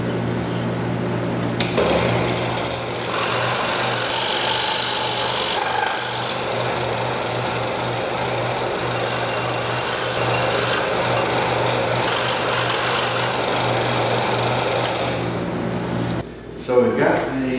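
A scroll saw cuts the outline of a wooden star, giving a steady, loud motor whine with buzzing blade chatter that runs nearly unbroken before stopping abruptly near the end.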